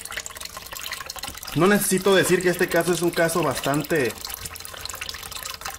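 Water flushes steadily through a car heater core, a constant hiss of running liquid heard throughout, while someone talks over it in the middle.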